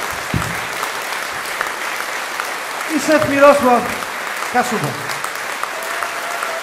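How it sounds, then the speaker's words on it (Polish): Live concert audience applauding a big band, a burst of clapping and cheering swelling in the middle under a male announcer's voice introducing performers. "Wielkie brawo!"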